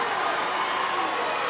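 A rugby crowd at Scotstoun roars and cheers steadily during a women's Six Nations match between Scotland and France, a dense, continuous wash of voices.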